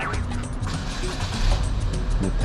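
Car engines and tire noise rumble nearby as vehicles roll slowly into a gas station in the United States, a continuous low drone with outdoor traffic background.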